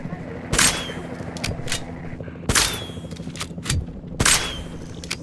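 Gunfire in the video game Jurassic World Evolution 2: three loud, sharp shots spaced about two seconds apart over a low game soundscape.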